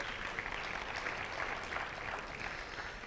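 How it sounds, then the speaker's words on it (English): An audience at a nomad entrepreneurship conference talk applauds, making a steady, even wash of clapping that is moderately distant and holds for the whole stretch. "Everybody, give yourselves a round of applause."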